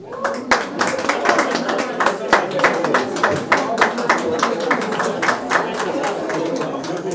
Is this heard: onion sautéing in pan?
no